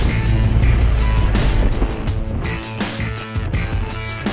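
A John Deere vehicle driving, with a loud, continuous low rumble and rattle as it moves and wind buffeting over it, heard close with no speech.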